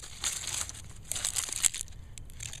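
Frost-damaged Coprosma 'Tequila Sunrise' stem being cut open, giving a few soft, dry crinkling snips and tearing crackles in quick bursts, close up and faint.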